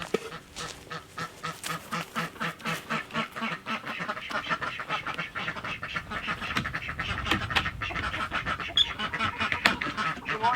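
Farm ducks quack loudly and rapidly as the birds are let out, a dense overlapping chorus of close, repeated quacks with some honking geese mixed in.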